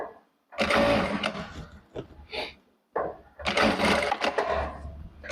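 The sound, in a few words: Jack A4 straight-stitch sewing machine sewing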